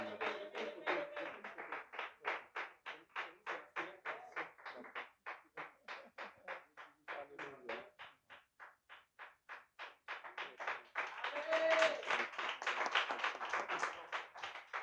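A church congregation claps in rhythm to acclaim the Lord, steady evenly spaced claps that run the whole way through, with a voice speaking over them at times.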